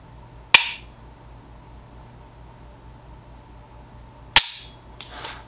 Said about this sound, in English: Now we're gonna start moving the trigger mechanically. Now we will reset.